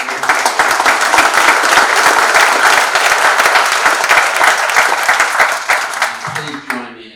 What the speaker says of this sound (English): A round of applause for Wayfair.